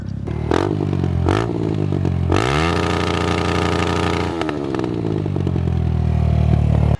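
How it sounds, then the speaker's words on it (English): A 2021 Kawasaki KX450X dirt bike engine blips twice in sharp revs, then roars through a longer throttle pull and settles into a loud, close, rough idle. "That is a good sounding bike."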